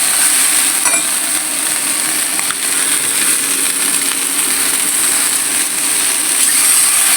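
Whole okra fries in oil with a loud, steady, hissing sizzle that lasts throughout. Now and then a faint clink rises above it, and no one speaks.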